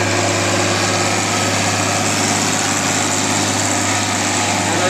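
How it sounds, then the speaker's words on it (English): A tractor running a power-take-off hay cutter mowing a meadow, its engine a loud, steady drone with a strong low hum that stays close and constant for the whole stretch, with no talking. "I'm going to be quiet as you hear the tractor go by."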